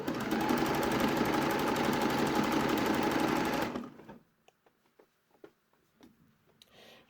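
A sewing machine stitches close to the edge of a jersey top in a fast, steady whir for almost four seconds, then stops, leaving faint clicks and fabric handling.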